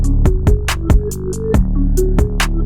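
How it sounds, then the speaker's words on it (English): An electronic drum pattern with booming, deep 808 bass hits, crisp snares and hi-hats in a steady groove, loud and close with no voices. "I'll play the drum kit with some 808s"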